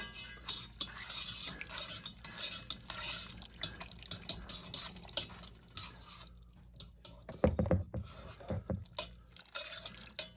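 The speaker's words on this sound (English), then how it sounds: "Give that a stir." Beef short rib bolognese sauce stirred in a pot, giving a steady run of scraping and wet clinks from the utensil, with a few louder knocks against the pot near the end; no talking.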